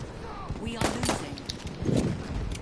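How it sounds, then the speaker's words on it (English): Gunfire from a Battlefield 1 firefight, with scattered shots and bursts popping at mid distance through a busy battlefield din, heavier around the middle and end, while a player's voice carries on over it. "People are shooting that way, so I'm shooting that way"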